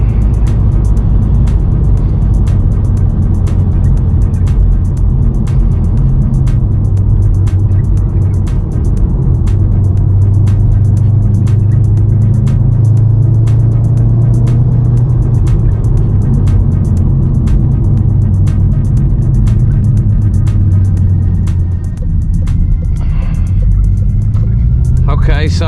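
A VW MK7.5 Golf R cruises fast along a road at dusk, a steady loud engine and road drone with tyre roar, a voice speaking over it.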